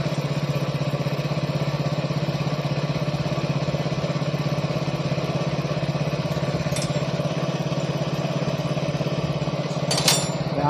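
A TVS XL 100 moped engine runs steadily close by, a constant buzzing putter with an even rhythm, broken by a couple of brief sharp clicks late on.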